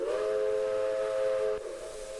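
A deep, chord-like American steam locomotive whistle in Train Simulator holds a steady blast for about a second and a half, then cuts off, leaving a fainter echo ringing after it.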